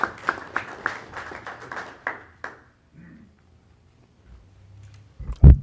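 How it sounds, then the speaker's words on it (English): A single person claps about a dozen times in quick succession, then the clapping stops, followed by faint shuffling and a sharp knock at the end. "I want to give you my own round of applause."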